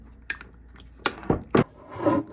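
A spoon clinking against a bowl while stirring mango, wheat germ and yogurt, a few sharp separate taps followed by a soft scraping swirl.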